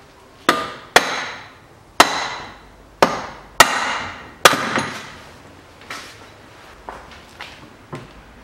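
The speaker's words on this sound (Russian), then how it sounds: "Берем оправку и выбиваем его из ступицы." A hammer strikes a drift to knock the front left drive shaft out of the hub on a 2006 BMW 530i E60 4WD, six sharp metallic blows about a second apart followed by several softer, fading taps.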